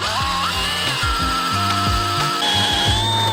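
Spade bit boring into wood for a chair, aligned to a 10-degree bevel, a steady close whirring drill tone with repeated rhythmic low surges as the bit bites and grinds through the timber.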